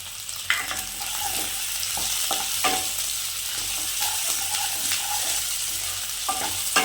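About twenty chopped shallots, added to chopped garlic in a pan for chicken kondattam, sizzle loudly in oil while a spoon scrapes and stirs in repeated sharp strokes, with no talking.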